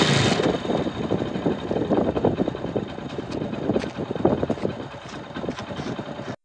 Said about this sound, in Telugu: నెక్స్ట్ థింగ్ ఏమంటే బైక్‌ని అయితే స్టార్ట్ చేసి అలాగే ఉంచేయండి.